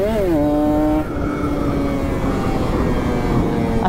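A bored-up Kawasaki Ninja RR two-stroke motorcycle revs hard nearby, its whining pitch climbing then holding at a high, steady buzz with rough, crackling exhaust texture.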